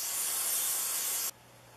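Rem Oil sprays onto the parts of a Stanley No. 129 Liberty Bell fore plane in one close, loud hiss of a little over a second that stops abruptly into quiet.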